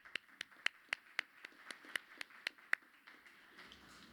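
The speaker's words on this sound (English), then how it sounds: "Let's give her an applause." Faint, evenly spaced handclaps ring out about a dozen times in a steady rhythm, then trail off into quiet.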